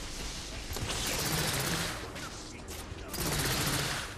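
In The Order: 1886, a machine gun fires a loud, close burst of rounds that swells, dips briefly and resumes, set against the din of a firefight with rebels.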